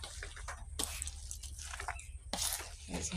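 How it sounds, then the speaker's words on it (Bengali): Water is poured in small splashes into a coconut naru mixture being kneaded by hand, with short wet drips and two brighter pours standing out from a low background hum. "আর একটু জল দেবো"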